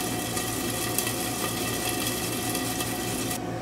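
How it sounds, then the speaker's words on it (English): A whole unpeeled piece of ginger is rubbed over a grater, making a dense, continuous rasping scrape close by that stops abruptly at the end. "I'm gonna grate some ginger in there."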